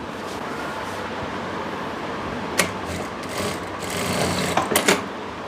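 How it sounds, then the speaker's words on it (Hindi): An electric sewing machine steadily stitches the back seat seam of palazzo pants, a continuous close whirring hum with a few brief sharper clicks near the end. "इस तरह से हमने आसन की सिलाई लगा ली है"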